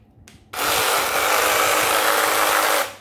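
A Makita JR188D 18V mini cordless reciprocating saw starts abruptly and runs in one steady, loud, buzzing burst for a couple of seconds before stopping.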